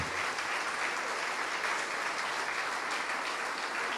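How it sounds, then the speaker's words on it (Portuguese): A church congregation applauding during a worship service, a loud, dense, unbroken wash of clapping throughout. "vamos aplaudir ao Senhor Jesus por cada vida que está chegando"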